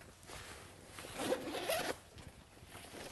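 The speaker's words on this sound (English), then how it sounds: "take the material on the inside here and zip it like this" A zipper is drawn along the fabric lining inside an Outwell Bermuda camping tent wardrobe, one steady close zip lasting about a second with a quieter rustle of material around it.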